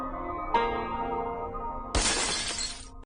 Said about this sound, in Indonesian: mereka mendengar suara gelas pecah